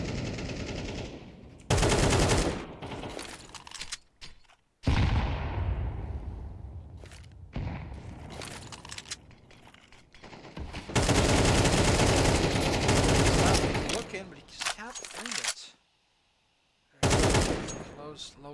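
Automatic rifle fire in The Division esports match play, long loud bursts of rapid shots broken by short pauses and near-silent gaps, with a caster talking between the volleys.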